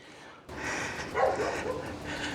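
A dog barks a few times in quick succession, close by, over faint background noise.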